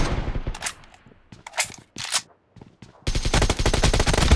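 Battlegrounds Mobile team deathmatch gunfire: sharp single shots and short bursts, then a sustained rapid automatic burst, loud and close.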